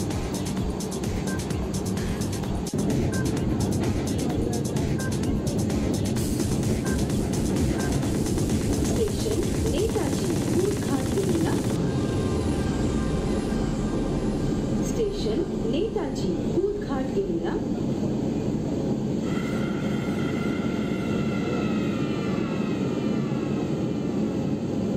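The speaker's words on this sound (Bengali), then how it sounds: "মেট্রোয়ে উঠে পড়েছি এবং বসার সিটও পেয়ে গেছি" Inside a moving Kolkata East West Metro train, a steady rumbling roar fills the carriage with constant running noise. Faint voices mix in at times, and there is a shift in tone partway through.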